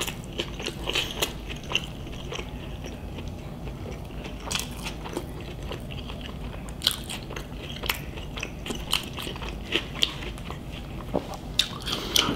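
Biting and chewing a Burger King Impossible Burger up close, with soft moist mastication and scattered sharper bites and smacks repeating steadily throughout, no talking.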